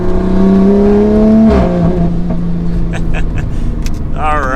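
A highly modified 600 whp wide-body Toyota Supra engine drones loudly and steadily from inside the car, then the pitch drops as the throttle lifts, leaving a rough idle-like rumble with faint whistling flutter at the end.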